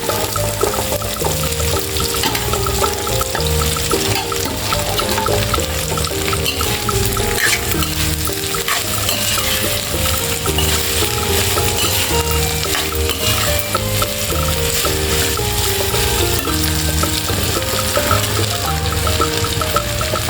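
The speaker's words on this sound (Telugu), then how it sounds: "ఇప్పుడు కట్ చేసి పెట్టుకున్న బెండకాయ ముక్కలు వేసుకోవాలి" Okra pieces sizzle steadily in a pan of hot oil for an Andhra-style ladies finger coconut fry, with continuous frying hiss, scraping stirs and soft music running underneath throughout.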